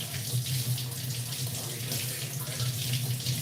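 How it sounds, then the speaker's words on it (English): Water runs steadily from a kitchen tap into a sink, a continuous close hiss and splash with no voices. "I'm going to turn off the water so I can hear you."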